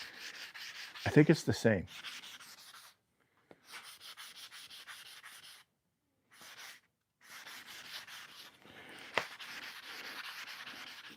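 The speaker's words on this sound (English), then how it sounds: "I'm using this sanding sponge, and I'm knocking off the the high grain" A sanding sponge rubs across wood in scratchy back-and-forth strokes, broken by short pauses, with a soft murmured voice briefly near the start.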